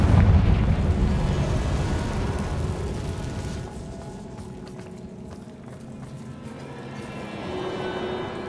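A Confringo fire spell bursts in Hogwarts Legacy: a loud, booming explosion right at the start, followed by a rumbling roar that fades through the middle and swells again toward the end.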